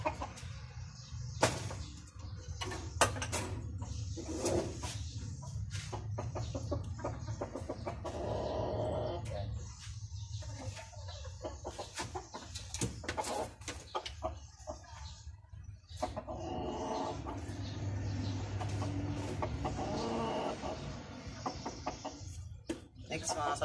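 A brood cock rooster is bathed while people talk throughout, with water splashing and handling noises, and occasional clucks under the speech.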